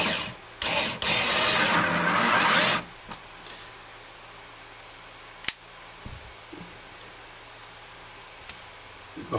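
A power driver runs long screws into hardline tool mandrels in two loud bursts, a short one then a longer whir of about two seconds, followed by quiet handling clicks and taps.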